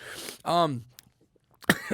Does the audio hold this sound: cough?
yes